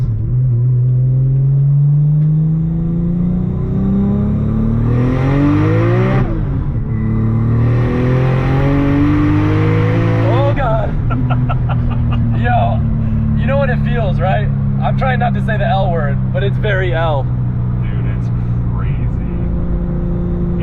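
A Nissan R32 GT-R engine revs up hard through the gears as the car accelerates, its pitch climbing and dropping with each shift, loud and close from inside the cabin while people talk over it.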